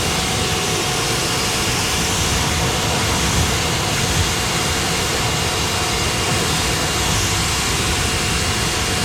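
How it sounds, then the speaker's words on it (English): A steady, loud hiss of pressurized water spray rinses down a Dodge SRT car, continuous and unbroken throughout without pauses. "Okay, and rinse it off."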